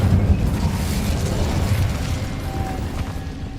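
An Incendio fire spell from Hogwarts Legacy erupts in a loud, rumbling burst. The roar is strongest at the start and then slowly settles into a lower, sustained whoosh, with no one talking.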